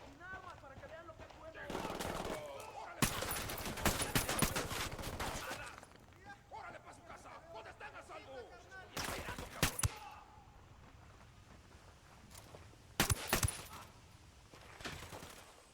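Gunfire in the tactical shooter Ghost Recon Wildlands arrives as a few short bursts of rapid shots spread across the clip, moderately loud, mixed with in-game radio voices and background ambience.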